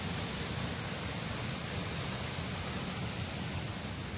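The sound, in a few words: water continuously falling from a height, small waterfall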